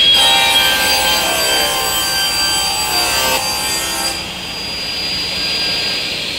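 A table circular saw cutting wood, a loud sustained whine with steady high harmonics that drops away partway through as the cut ends and the blade runs on more quietly.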